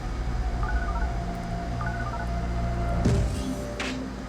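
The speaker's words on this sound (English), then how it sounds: "picks up his phone, and dials the number of Special Agent Force" A telephone number dialed on a phone, a run of short, evenly paced touch-tone beeps at moderate volume over a steady hum, followed by a couple of brief clicks.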